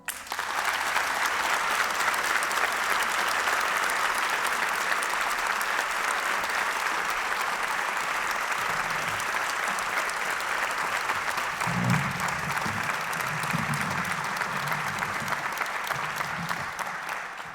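Sustained, dense applause from a studio audience welcoming four podcast guests, loud and even throughout with a few low voices surfacing near the end.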